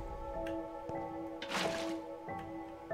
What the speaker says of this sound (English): Then we're going to go ahead and put water on each piston.